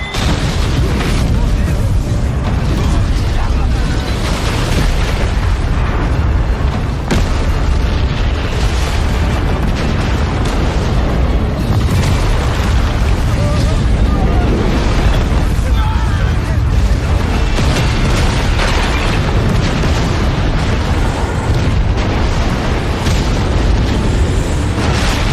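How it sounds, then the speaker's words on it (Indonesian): Animated explosion from Soul Land 2, a loud, dense blast of rumbling booms and bursts that fills the whole stretch with continuous roaring noise, voices faintly mixed in. "Ledakan luar biasa Edun barusan jelas memancing perhatian seluruh pihak"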